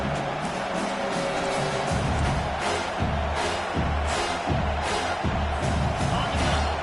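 A stadium crowd roars in a college football video game, Tennessee against South Carolina, a dense steady wash of cheering with rhythmic swells and claps, the crowd pressing during a third-and-long.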